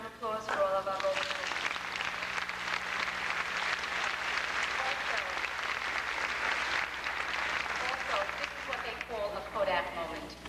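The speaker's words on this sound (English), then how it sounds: "If you give a round of applause for all of our gold medalists." Sustained applause fills a high school graduation ceremony hall as gold medalists are honored, steady dense clapping from a large audience lasting about ten seconds, with voices briefly audible at the start and end.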